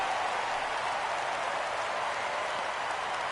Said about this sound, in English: And the home crowd has really come to life here in the bottom of the 8th.